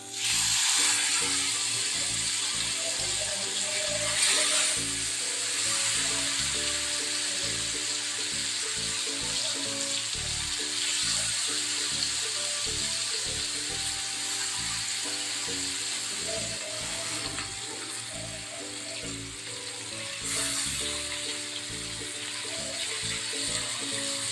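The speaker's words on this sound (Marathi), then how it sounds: "तव्यामध्ये तेल घालून घेतलेलं आहे तेल छान गरम झालेलं आहे त्यामध्ये आपण हलवा घालूया" Pomfret (halwa) fish fries in hot oil on a tawa over a gas flame, giving a loud, steady sizzle and crackle that runs unbroken throughout, with occasional sharper spits and no voices.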